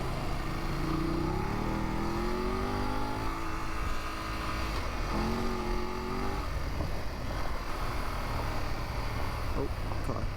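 A car passing on a forest road during a group motorcycle ride, its engine rising and falling as it goes by nearby, heard over the steady drone of the riders' own engines.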